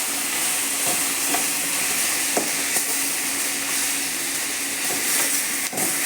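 Onions and greens sauté in a pan with a continuous steady sizzle and frying hiss, punctuated by a few soft scrapes and knocks of a spoon stirring, close by and with no one talking.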